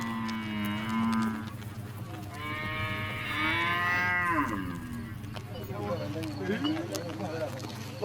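Cattle let out of a corral to graze in a desert region moo loudly several times in long, drawn-out calls, some rising and falling in pitch, over a steady low background, with someone talking throughout.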